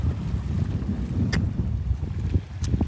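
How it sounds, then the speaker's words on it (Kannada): Wind gusts across a scenic hilltop viewpoint, buffeting the microphone in a continuous low roar with no talking. "ಗಾಳಿನೂ ಮಸ್ತ್ ಆಗತೈತಿ"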